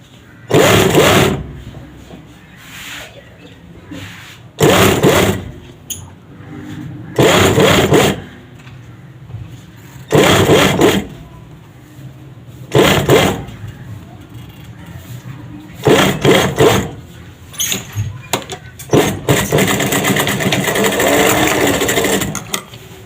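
An electric sewing machine stitches a two-piece shirt collar in repeated loud runs of rapid mechanical whirring, each a few seconds long, separated by pauses where a voice talks.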